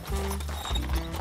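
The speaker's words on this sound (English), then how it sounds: "we pulled over when we noticed our first horse and buggy" A horse pulling an Amish buggy clip-clops along the road, a quick run of close, fairly loud hoof strikes over a low rumble.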